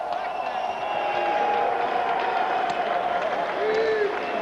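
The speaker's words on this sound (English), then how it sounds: "Dan the Beast Severn, ladies and gentlemen. Big round of applause." Arena crowd applauding a mixed martial arts fighter after a title main event, a steady, dense wash of clapping and cheering that holds loud throughout, with a faint voice underneath.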